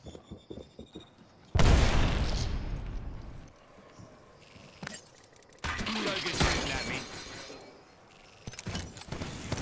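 An Arc Star grenade goes off in Apex Legends with a sudden loud crackling blast, followed by more bursts and shots a few seconds later amid ongoing gunfire.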